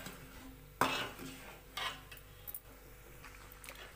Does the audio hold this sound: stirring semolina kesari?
yes